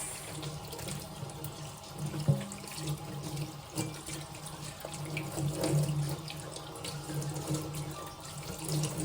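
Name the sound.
hot tap water running in sink while cleaning chicken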